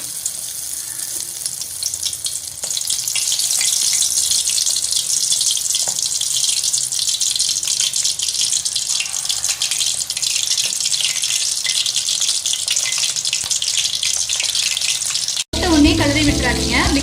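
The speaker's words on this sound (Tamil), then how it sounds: "ஒரு பேனில் எண்ணெய் காஞ்சதும் இந்த மாதிரி ஒன்று ஒன்றா போட்டுக்கலாம்." Marinated prawns frying in hot oil in a pan for prawn 65, a steady bright sizzle that swells as pieces are dropped in and continues evenly, then cuts to a brief spoken passage at the end.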